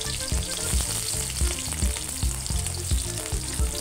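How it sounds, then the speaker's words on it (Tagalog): Chopped onion sizzling in a hot pan while cooking menudo, a steady crackling fry with a low rhythmic bumping from stirring, close and continuous throughout. "pwede na rin po natin isunod ang ating sibuyas"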